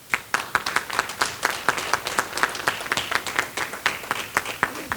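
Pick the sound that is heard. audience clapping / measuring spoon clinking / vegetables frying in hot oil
audience clapping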